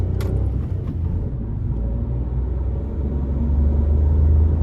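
Grey metallic Peugeot 208 VTi accelerating, a steady close engine rumble that builds slightly in loudness toward the end, with no talk over it.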